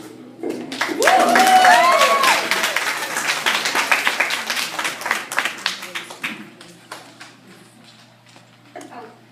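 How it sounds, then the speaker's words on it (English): A high school audience at a poetry reading applauds a performer, swelling to a full round of clapping with a whistle early on, then tapering into scattered claps as it fades. "please give a warm round of applause for Brianna"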